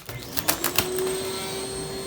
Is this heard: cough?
no